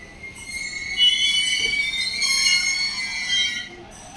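A Japanese train at Nikko station gives a continuous high metallic wheel squeal over low rumble, loud and close, lasting throughout with a brief drop near the end.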